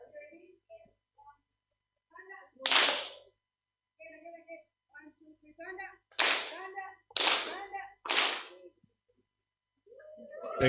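Audience applause at an afternoon session of a data summit in Kisumu, heard as several loud bursts of clapping, each a few seconds long, separated by stretches of speech.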